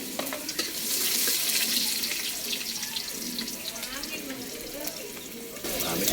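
Chicken, tomatoes, onion, ginger and garlic sizzle steadily in hot oil over a charcoal fire for tinola, a continuous crackling hiss with a little stirring.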